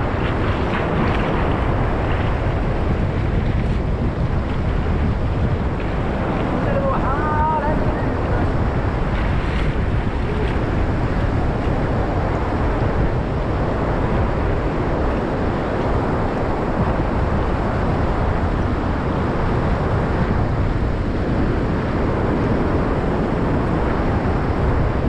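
Sea waves wash and churn around a boat on a fishing trip, a constant roaring surf mixed with heavy wind buffeting the microphone throughout, loud and close.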